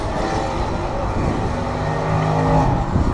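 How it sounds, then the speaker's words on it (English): Drift cars racing in the 2015 Drift Allstars Estonia top-16 battles make a loud, steady engine roar that barely changes across the moment, with no talk. "Working on the brakes to stay behind the Mikkel-Norman."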